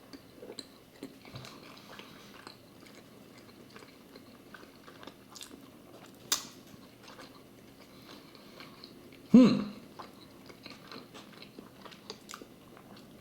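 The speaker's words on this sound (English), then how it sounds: "I'll try to take a bite from maybe this side over here." A Cheddar Onion Buttery Jack burger is bitten and chewed close to the microphone, with soft quiet mouth noises, a clear bite near the middle and a faint background tick.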